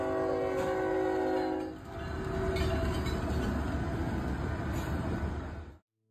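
A train rumbles past with a sustained, loud horn blast at the start, then the heavy rolling clatter of the cars continues before cutting off.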